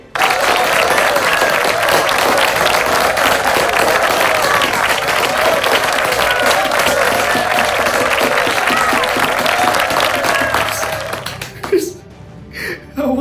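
Loud, sustained audience applause for class 10C at a school business day event, dense clapping with crowd voices running for about eleven seconds before fading into quieter chatter.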